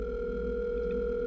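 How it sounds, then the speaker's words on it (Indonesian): A telephone gives a steady electronic tone that holds evenly for just over a second, fairly quiet and with no voices. "kita dapat telepon."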